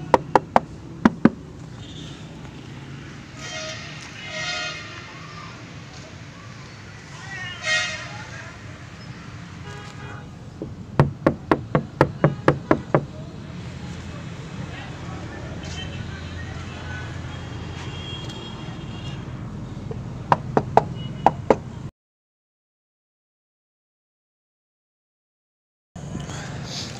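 Someone knocks on the rear body panels of a car whose body was repaired with filler. Sharp raps come in quick clusters at the start, middle and near the end, over steady background noise and a faint passing horn.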